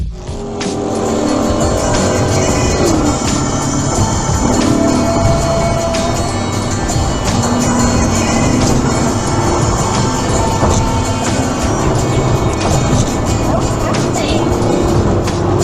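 Cars race by in a chaotic road scene, engines roaring with tire squeal and passing whooshes, a loud continuous din with voices mixed underneath.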